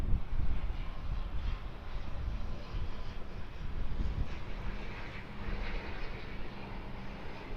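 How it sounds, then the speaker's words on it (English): An ATR turboprop airliner arriving from Palmerston North at Auckland produces a steady, rumbling propeller and engine drone, fairly loud and continuous with slight swells. "So ATR arrival from Palmerston North."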